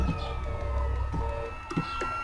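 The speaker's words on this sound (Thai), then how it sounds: "พี้แจ้งรถตำรวจนะครับ" A police car siren in a GTA video game wails faintly in the background amid engine rumble and scattered clicks, with no talking.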